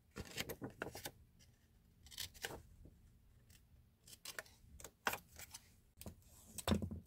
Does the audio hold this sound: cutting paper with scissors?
yes